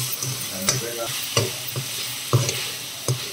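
Tomatoes fried in a pan and smashed down with a utensil make a steady close sizzle, broken by four or five soft thuds and scrapes at an uneven pace, with no talking.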